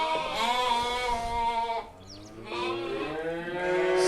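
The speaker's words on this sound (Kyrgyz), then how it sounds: "Булар 3 загондон бооз койлору." Pregnant Hissar sheep brought from Tajikistan bleat at a livestock market, with loud, close, wavering calls in two long bouts separated by a brief pause.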